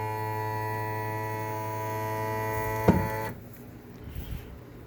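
A boat outboard motor's power tilt raises it with a steady electric motor hum and whine, then clunks to a stop, leaving a quieter background.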